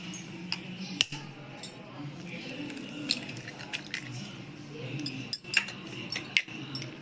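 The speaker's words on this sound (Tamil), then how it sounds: "இதில் முட்டையை உடச்சி ஊற்றிக்குவோம்" Eggs cracked and poured into a bowl for egg pasta, giving a few sharp taps and clinks against the bowl around the first second and later between five and seven seconds, over a quiet kitchen background.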